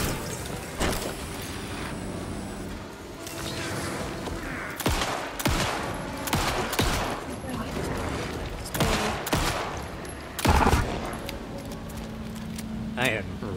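Gunshots in Alan Wake 2, a series of sharp, loud cracks fired at irregular intervals over several seconds, with a person talking between and under the shots against low ambient rumble.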